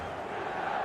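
A stadium crowd roars at a steady, dense level in an eFootball match, the noise a continuous wash of massed voices with no distinct calls standing out.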